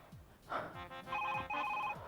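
A telephone rings indoors, two short electronic trills in quick succession, faint and distant against a quiet room.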